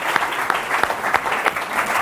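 A live audience bursts into steady, dense applause for guest Asim Chaudhry at a podcast recording at Shoreditch House, many hands clapping loudly and continuously from near and around.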